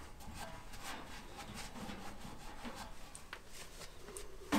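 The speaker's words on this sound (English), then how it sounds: "I also wipe down the shaft from any dust or other dirt that's on it" A rag rubs dust and dirt off the shaft of a furnace blower motor. Faint, soft repeated wiping strokes run steadily throughout, with a short knock at the very end.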